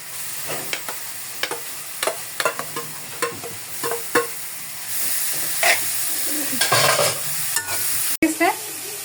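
Grated carrots and ginger paste sizzle in a hot pan, with a series of sharp stirring scrapes and clinks over a steady frying hiss that grows louder and steamier partway through; close and clear, no speech.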